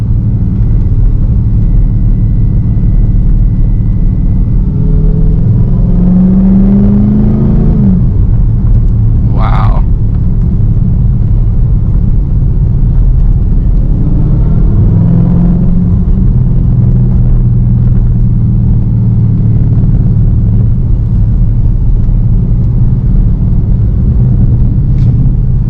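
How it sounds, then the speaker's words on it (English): A Dodge Charger SRT Hellcat with a 717 hp engine holds a loud, steady rumble from inside the cabin, with a couple of rising revs in manual mode swelling around the middle. "Now that we're in manual mode, we get to decide when we get to shift it, so we can rev her a little high"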